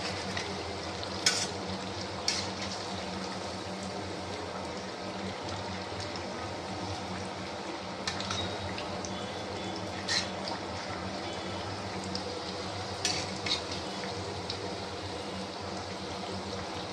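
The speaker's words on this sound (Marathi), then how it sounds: "ह्या उलटण्याने पलटत आहे." Sabudana vada fry in hot oil in a pan with a steady, even sizzle throughout, while a spatula flips them with a few sharp clicks and scrapes against the pan.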